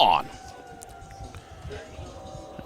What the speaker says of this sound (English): The siren now winding down